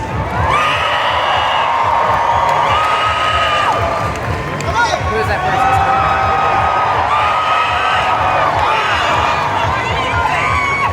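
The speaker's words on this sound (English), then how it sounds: "So please do a round of applause to the Hobbits." A large convention crowd at a December 2023 Comic Con cheers and whoops for the Lord of the Rings Hobbit actors, with loud, sustained shouting and screaming throughout, some clapping mixed in, and a voice speaking briefly over the noise.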